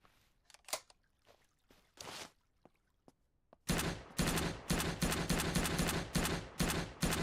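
Full-auto gunfire from a tracer-firing weapon in the SurrounDead zombie survival game, opening with a few scattered clicks and single shots, then a sustained, loud rapid burst of closely spaced shots.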